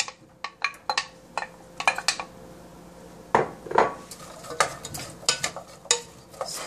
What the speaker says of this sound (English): And we put the onion into it.